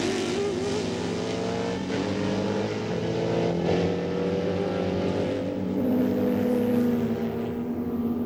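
Race cars at the 1999 Sebring Twelve Hours, including Ford and Ferrari sports prototypes and GTP cars, roar past in a loud sustained engine drone whose pitch climbs and shifts as they rev and pass.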